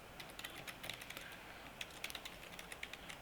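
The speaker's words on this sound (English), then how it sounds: "we're just going to type in our name" Quiet, steady tapping of keys on a computer keyboard, irregular bursts of light clicks typing a name into a document header, close and soft with no talking.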